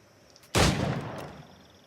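A single loud gunshot with a lingering tail, fired at targets in a timed shooting challenge in Assassin's Creed 4 Black Flag, standing alone over a quiet background.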